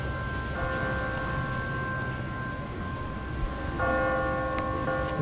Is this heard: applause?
no